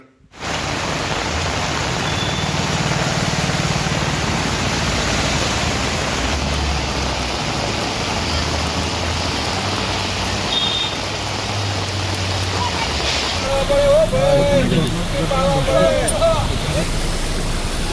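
Heavy rain pours in a dense, steady hiss, with traffic rumbling faintly beneath and a voice briefly audible toward the end.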